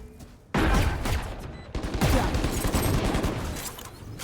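Rapid bursts of video game gunfire erupt loud and close after a brief quiet start, continuing in dense volleys with a grenade blast possible among the shots.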